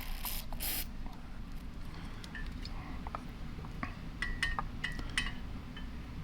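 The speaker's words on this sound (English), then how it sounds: "I just have the spray can." Short bursts of lubricant aerosol spray hiss near the start on a Winchester Model 70 rifle's trigger spring and hammer pivot, followed by faint metallic clicks and light handling noises over a steady background hum.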